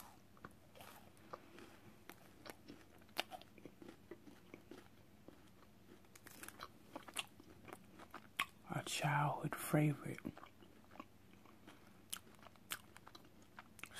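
Close crunchy chewing of a Star Crunch snack, a chocolatey Rice Krispie treat with caramel nougat inside, with a burst of crisp bites in the middle amid soft mouth sounds and a quiet spoken phrase.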